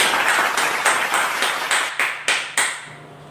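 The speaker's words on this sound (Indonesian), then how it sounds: "Oke, kita beri aplaus untuk kita semua." A small group clapping in unison, a series of about nine sharp rhythmic claps that grow sparser and end with a few isolated hits.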